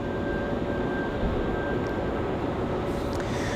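Aeromexico airliner taxiing and turning at Raleigh-Durham airport, a steady broadband jet engine roar with a faint high whine, holding constant at moderate distance without speech.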